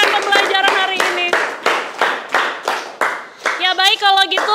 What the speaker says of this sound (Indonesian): sekarang kita semua tepuk tangan ya untuk kita semua karena sudah menyelesaikan pembelajaran hari ini